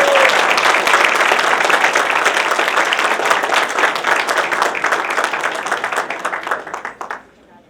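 Audience applauding a winning project at a high school science fair award ceremony, loud steady clapping that holds for several seconds, then gradually thins and fades to quiet.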